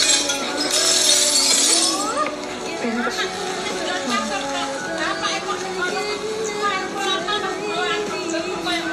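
House window glass smashed during a violent tantrum inside a home: a bright, crashing burst of breaking glass in the first couple of seconds, followed by clinking fragments and ongoing voices and commotion.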